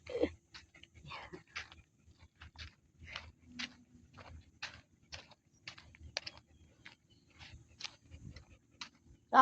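Two tired dogs pant softly in a park, with quick, rhythmic breathy puffs repeating steadily at a close but quiet level and no voices.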